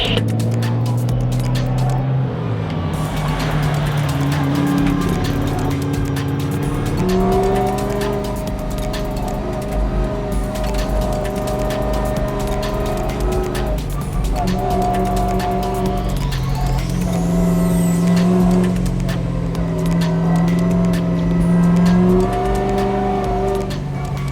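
A drift car being driven to warm its front tires, engine loud and close with revs rising and falling in steady gear-like steps, tires squealing through the run, continuous for the whole stretch.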